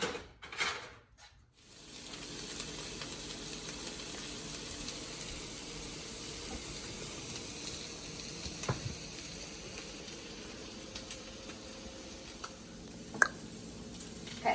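Turkey and asparagus frying together in a hot pan, a steady, close sizzle with a few stirring scrapes and pops, no talking.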